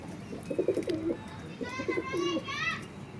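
Pigeons coo in low, throaty bursts close by, with children's voices and other bird chirps in the background.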